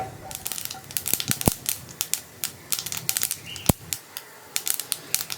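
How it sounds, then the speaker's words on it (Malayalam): Rapid, irregular crackling pops of mustard seeds sputtering in hot oil, close up and continuous, with a couple of sharper clicks standing out. "കടുകൊന്ന് പൊട്ടി വരട്ടെ"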